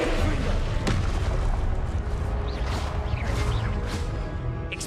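Fiery Confringo spell blasts from Hogwarts Legacy combat, loud booming explosions with crackling bursts layered over dense continuous battle noise, one sharp hit near the start.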